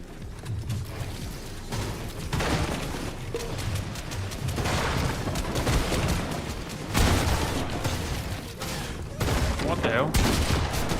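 Dense, continuous video game gunfire with rapid bursts and occasional booms, loud and sustained throughout, in a shooter marking a new season, with a player talking over the shooting.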